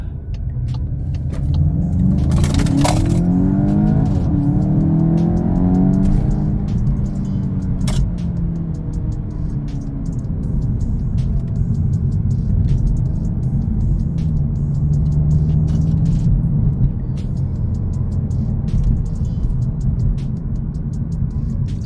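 A 2022 VW Golf 8 GTI drives in sport mode, its engine giving a steady, close rumble from inside the cabin with road noise and a brief rise in revs early on.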